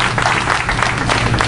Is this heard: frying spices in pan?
no